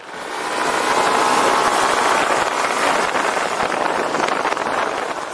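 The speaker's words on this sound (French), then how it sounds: "Une légère pression sur l'accélérateur et le Kymco DTX se relance sans effort." Kymco DTX 360 125 scooter engine pulling away on the road, a buzzing drone that swells in after a quiet start and holds steady, mixed with wind rush over the microphone.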